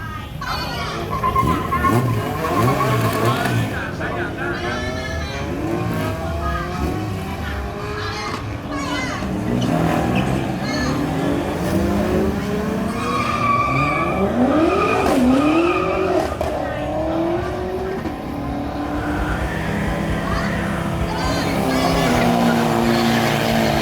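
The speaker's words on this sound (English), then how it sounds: "That is a drag race that you will probably only ever see in the country of Thailand." Thai street drag race of Toyota Hilux mini trucks at a car festival, with engines revving and tires screeching in a busy crowd; someone speaks over the racket throughout, while children's voices and crowd noise fill the background.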